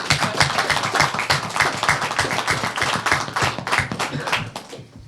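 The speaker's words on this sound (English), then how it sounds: "join me in giving a round of applause to Councillor Brad Butt" A crowd at a launch event claps in sustained, steady applause, fairly close and loud, tapering off at the end.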